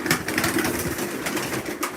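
Pigeons coo in a soft, repeated murmur at close range, a low rolling call that carries on through the whole stretch with a busy chatter of other birds behind it.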